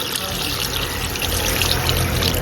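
Water poured into a pressure cooker pot for pork belly sinigang, a steady close splashing pour that grows slightly fuller, with a voice speaking over it.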